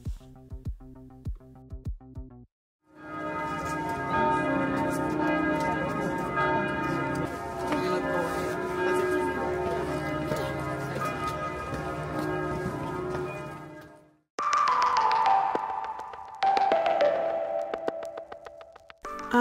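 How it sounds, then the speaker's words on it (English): Church bells in Budapest, Hungary, ring out in a long, resonant peal, preceded by a few lighter chimes and followed by ringing tones that decay into reverberation. "I love listening to church bells."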